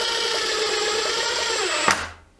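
A Makita DTD171 impact driver drives a 40mm screw with a steady, continuous high motor whine that builds briefly before stopping abruptly, alone and close.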